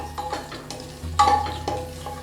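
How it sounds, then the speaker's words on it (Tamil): Whole spices, star anise, cardamom and bay leaf with cinnamon and cloves, frying in hot oil for a vegetable kurma, a soft close sizzle broken by a few stirring scrapes of a spoon against the pan. "ஒரு அன்னாச்சிப்பூ, ஒரு ஏலக்காய், ஒரு பிரிஞ்சி இலை. இது ஃப்ரை ஆகட்டும்."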